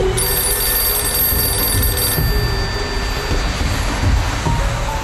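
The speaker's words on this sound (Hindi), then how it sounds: "एलिफ, जाओ फोन उठा लो।" A telephone rings with a high, repeating electronic tone for about two seconds, then stops, leaving a steady low background rumble.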